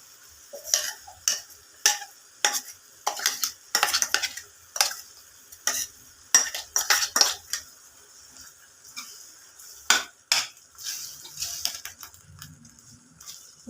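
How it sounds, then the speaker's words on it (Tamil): A spoon stirs ground masala paste into chicken in a pan, giving irregular close scraping and clinking strokes over a faint sizzle, with no voices. "இது கூட நம்ம அரைச்ச விழுதுகளை சேர்த்திக்கலாம்."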